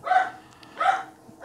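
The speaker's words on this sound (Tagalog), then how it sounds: "maingay po yung aso namin." A house dog gives two sharp barks about half a second apart, fairly close and moderately loud, in an otherwise quiet room.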